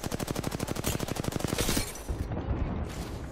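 Rapid burst of artillery or heavy automatic fire in the Apex Legends battle royale shooter, a fast regular string of loud close shots for about two seconds, then rumbling booms and impacts trailing off.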